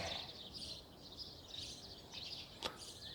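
Sparrows chirp steadily in short, high bursts against a faint background hiss, with one sharp snap late in the clip.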